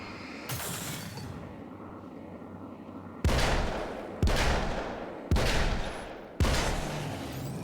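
Four heavy Magnum revolver shots fire in the video game Alan Wake's American Nightmare, spaced about a second apart, each a loud sharp boom with a decaying tail, after a quieter stretch of game ambience.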